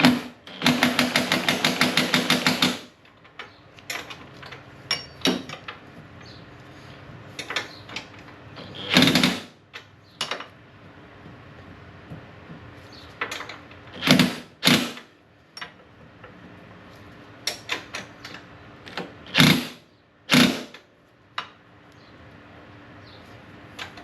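Impact wrench set on low snugging a locking nut on the front suspension of a Hammerhead GTS 150 Platinum build, a loud buzzing burst at the start followed by scattered short bursts and clanks.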